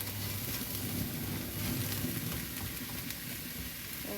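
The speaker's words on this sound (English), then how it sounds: "So we're going to pour all of our mushrooms in now, and we're going to leave them for another 5 or 6 minutes." Mushrooms frying in a pan for a pork and mushroom stroganoff give off a steady, even sizzle and crackle at moderate level, with no talking over it.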